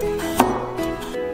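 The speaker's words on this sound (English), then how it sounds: "Then wash, peel, and cut the carrots." Knife chopping carrots into pieces on a cutting board, a few crisp cuts including one sharp distinct chop, set against a steady background of music.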